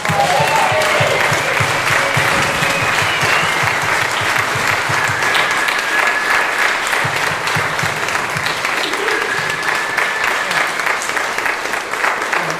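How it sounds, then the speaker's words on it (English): An audience claps and cheers at a live outdoor festival concert, loud sustained applause close at hand for the whole stretch, with some faint crowd voices mixed in. "Let's give them a huge round of applause."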